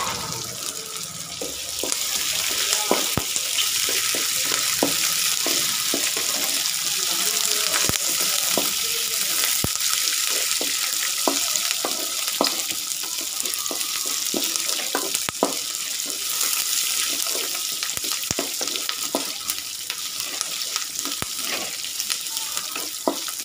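150 grams of garlic sizzling in a pan while being stirred, a continuous bright frying hiss broken by frequent scraping knocks of the spoon against the pan, close and steady, no talk.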